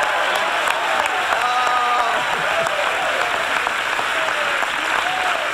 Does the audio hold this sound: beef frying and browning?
no